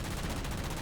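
Continuous rapid gunfire in the video game Halo Spartan Ops, a dense, loud barrage of shots running through the entire short moment with no voice over it.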